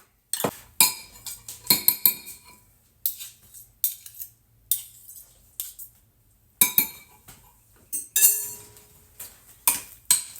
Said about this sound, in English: now we're using this big spoon to see if that does any difference